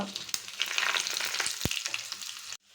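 Dried red chilies sizzle and crackle in hot oil with cumin and fenugreek, a dense, steady frying hiss with a few sharp pops and stirring clinks, close and fairly loud, then stopping abruptly.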